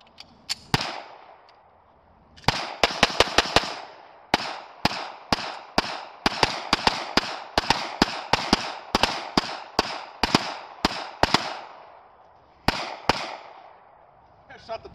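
Heavy-load gunshots ring out outdoors, one sharp crack and then a rapid volley of loud reports fired in quick uneven bursts with brief gaps, echoing crisply.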